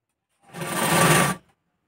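A sewing machine runs one short, steady burst of stitching, sewing pleats on a baby frock. The whir starts abruptly, holds for about a second, and stops cleanly against silence.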